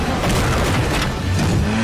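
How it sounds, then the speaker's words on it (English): Loud car crash from a Walking Dead action scene, with rumbling impact noise, screeching tires and a dense roar of engine and debris filling the whole moment. "car crash."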